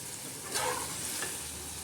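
A mixed vegetable tarkari bhaji fries in a pan while being stirred, a steady close sizzle broken by two brief louder scraping stirs, with no talking.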